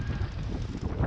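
Wind blowing by a pontoon at sea, a low buffeting rumble on the microphone that gusts unevenly through the short stretch with no voices.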